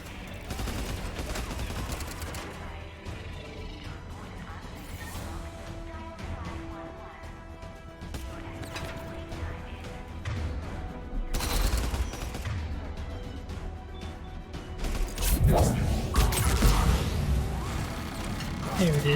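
Turret gunfire rattles in bursts during Mass Effect 3 combat, with steady background game noise and a louder flurry of shots near the end, while a voice talks over part of it.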